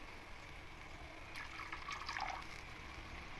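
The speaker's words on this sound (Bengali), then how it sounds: "আর একটু জল দিয়ে দেবো।" Water poured into a pan of mustard fish curry, a soft brief splash and trickle rising near the middle, faint over a low steady kitchen hiss.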